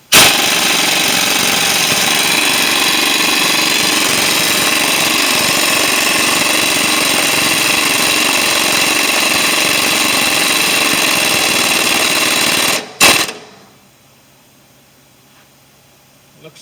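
An impact or power tool runs steadily for about thirteen seconds while a lower ball joint is tightened down on a 2008 Chevy Silverado 1500 4x4, a loud continuous buzzing drone that cuts off abruptly into near silence.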